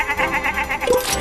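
Sheep bleating in the video game Puppeteer, a short wavering bleat heard over steady game music and ambience.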